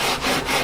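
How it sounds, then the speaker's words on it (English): Sanding board worked over the rosewood fretboard of a 1965 Martin 000-18 guitar being prepared for a refret, giving two close, loud, rasping strokes with brief dips between them and no voice. "I am going to get my regular sanding board here"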